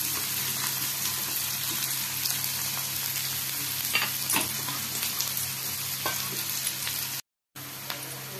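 Chopped onions sizzle and fry in a pan, a steady crackling hiss, occasionally stirred, with a brief dropout near the end.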